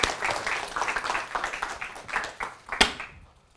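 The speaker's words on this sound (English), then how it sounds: "Give a round of applause, Amari." Brief, light applause from a small audience at a youth speaking challenge event, scattered claps rising and fading, with one sharp louder clap near the end.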